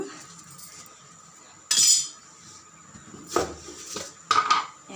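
Spoon tapping and clinking against a steel pot while asafoetida (hing) is added to a finished pot of sambar, in a few brief bright metallic strikes separated by quiet pauses.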